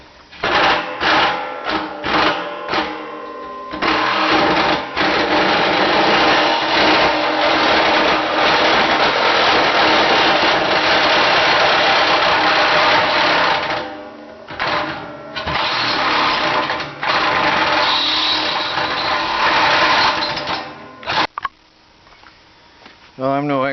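A sawzall reciprocating saw cuts through the metal of a barrel stove, a loud, close buzzing rasp that runs in long bursts with short pauses between strokes.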